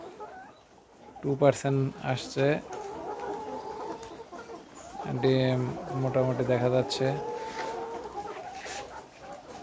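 Nourish layer hens in a poultry shed cluck and chatter softly in the background while someone speaks over them in two short bursts.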